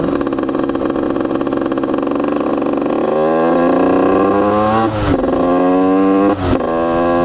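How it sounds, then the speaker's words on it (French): A 70cc Derbi moped engine runs steadily nearby, its pitch climbing as it revs higher, with a couple of brief dips before settling into a constant drone. "le 70 il fait un peu de bruit quand même."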